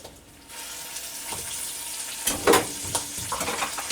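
Potatoes go into a Dutch oven for soup. A soft sizzle and clatter starts quietly, then a louder splash and a few stirring knocks follow near the end.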